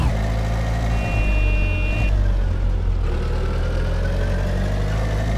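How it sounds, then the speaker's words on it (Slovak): Car engine in the video game My Summer Car, a loud, steady mid-pitched rumble close by with a shifting drone and a brief thin tone partway through, no voices. "A počujem auto."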